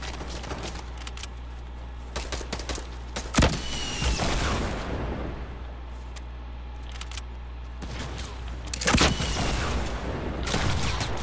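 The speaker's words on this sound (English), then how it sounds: "Okay, I weakened myself from that explosion." Explosions and gunfire in the video game Fortnite, sharp blasts and crackling bursts over a constant low hum, loud and busy, with several strong hits in a dense game mix.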